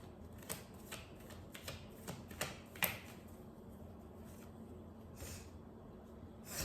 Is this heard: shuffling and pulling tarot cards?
yes